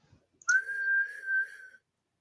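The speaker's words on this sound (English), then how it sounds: "That was whistling, sucking in." Person whistling by sucking air in, a single sustained thin tone lasting just over a second, close and clear against silence.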